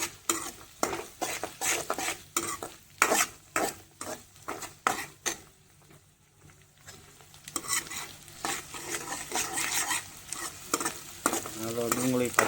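Chopped garlic frying in hot oil in a pan for an eggplant oro, with a sharp spoon scraping and stirring in a fast rhythm, then a steadier crackling sizzle. It is close and loud, and no one speaks.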